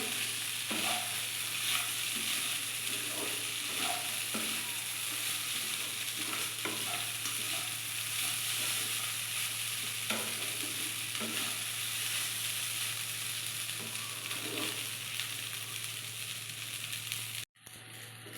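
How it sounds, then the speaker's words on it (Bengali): Cashews, raisins and nuts frying in a pan for vegetarian chira pulao, a continuous close sizzle with repeated soft scraping stir strokes, ending in a brief bump. "দিয়ে দেব কাজু কিশমিশ বাদাম, এটাকে দিয়ে একটু আমি এটাকে ভেজে নেব।"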